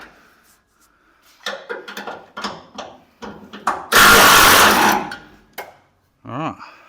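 A hand wrench ratchets loose the bolts on a 1984 Toyota Hilux 4x4: close, irregular clicking bursts, one loud sustained rasping spell, then a short low tone near the end.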